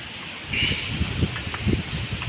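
Strong gusting wind in a Kalbaishakhi storm with no rain, swelling partway through and rustling the tree branches and leaves nearby in uneven bursts.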